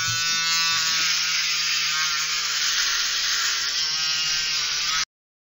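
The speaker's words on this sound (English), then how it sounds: "We'll begin by trimming the patient's hair in that area." An electric trimmer in a virtual hair transplant surgery game buzzes steadily while trimming a patient's hair, a bright, constant whirring hum that runs evenly for about five seconds and then stops dead.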